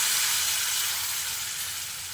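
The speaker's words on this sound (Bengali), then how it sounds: "এবার আমি এই পর্যায়ে এর মধ্যে দিয়ে দিচ্ছি 1 কাপ মতো গরম জল" Hot water hits potatoes and taro in a hot spiced pan, producing a loud, steady broadband sizzle and steamy hiss that eases slightly over a couple of seconds, close and continuous with no talking.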